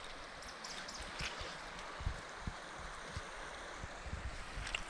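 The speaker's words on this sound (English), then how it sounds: "on the other side, got this gorgeous creek right here." A mountain creek flows steadily beside a camping spot, a soft continuous watery rush with light wind buffeting and a few low thumps, fairly quiet and with no talking.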